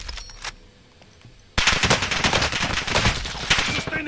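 A machine gun fires in a Call of Duty video game: after a quiet start with a lone shot, a loud, sustained burst of rapid automatic fire runs to the end.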